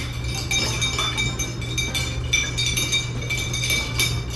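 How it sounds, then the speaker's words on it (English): A spoon clinks against a glass, stirring to dissolve a sugar cube in Austrian absinthe, making repeated light tinkling taps in a quick irregular rhythm close to the microphone, with a constant low hum in the background. "So you just stir it to dissolve the sugar cube"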